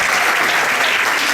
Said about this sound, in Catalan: els demano un aplaudiment pel senyor Andes